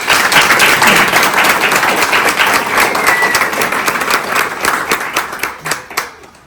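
An audience applauds at a home key ceremony, producing loud, dense clapping from many hands that continues steadily and then thins out and fades near the end.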